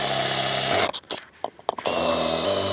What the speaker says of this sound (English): Now we're going to drill the bracket. We're going to use metal drill bits.